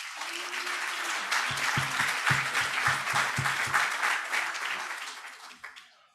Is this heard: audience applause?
yes